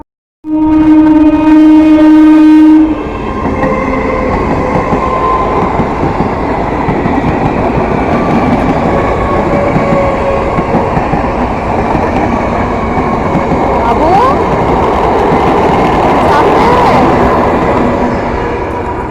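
A train at a railway station sounds a loud, steady horn blast for about two seconds, then a heavy continuous rumble and rolling clatter of the train carries on close by.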